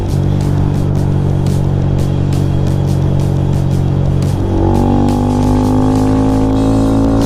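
A 2022 Honda Grom motorcycle with performance mods pulls steadily in fourth gear, its small engine droning loud and close alongside wind rush. Partway through, the pitch climbs smoothly as the bike gains speed.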